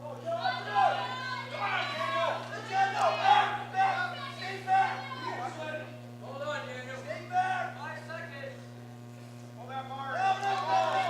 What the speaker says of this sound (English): You can hear the cheers of the Bow crowd there